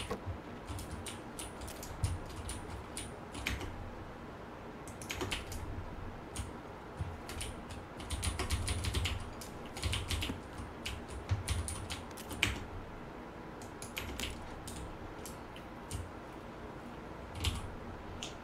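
Keys clatter on a computer keyboard during a PUBG game session, with bursts of quick, faint clicks in uneven clusters over a low background hum and no speech.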